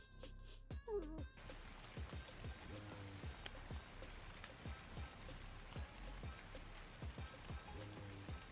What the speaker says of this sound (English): This animation and sound for rain